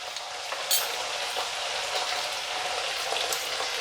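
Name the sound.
stirring and mixing spices frying in a pan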